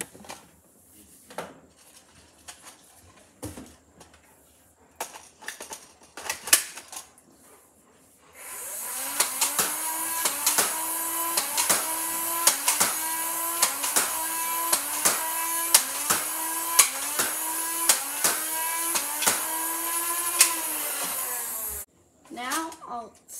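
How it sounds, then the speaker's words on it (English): A Dart Zone Spectrum blaster is handled with scattered clicks and clacks, then fires waffle head darts: a sustained motorized whir with rhythmic pulsing repeats for about twelve seconds, ending abruptly, followed by a final click. "So now for the firing demo, I will be testing the included waffle head darts and standard Nerf Elite darts."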